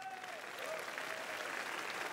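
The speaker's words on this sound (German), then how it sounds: "Bitte schön einen großen Applaus." A TV studio audience applauds steadily for a couple of seconds, a dense wash of clapping that stays even and fairly close.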